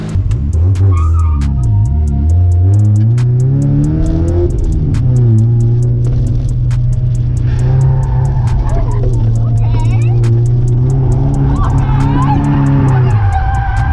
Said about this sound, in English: we're going to be drifting the Miata